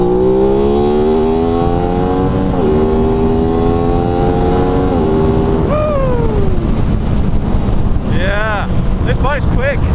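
An Aprilia RS 660 parallel-twin sport motorcycle from 2023/24 is ridden hard. Its engine note climbs steadily through several upshifts, then falls away and revs sharply again in short bursts, all under heavy, constant wind rush close to the microphone.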